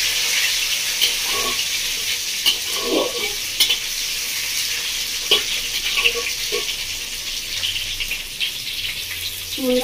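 Chopped medium-sized tomato going into hot spices fried in a pan, a loud continuous sizzle with repeated stirring clatters and scrapes throughout.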